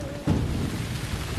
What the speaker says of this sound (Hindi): कितनी इतनी तेज बारिश हो रही है।